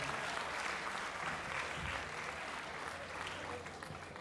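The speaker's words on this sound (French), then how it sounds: "Applaudissez là-haut pour moi d'abord." Comedy-show audience in the upper seats giving a steady wash of applause, heard at a distance and fairly soft, thinning out in the last moments.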